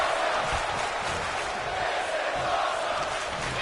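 Steady, dense crowd roar filling the arena in the WWE 2K23 wrestling game, a continuous wash of cheering with no clear peaks, moderately loud throughout.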